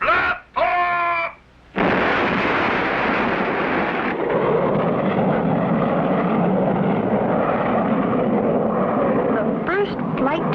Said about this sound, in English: 5, 4, 3, 2, 1. Blast off!